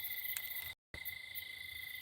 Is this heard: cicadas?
yes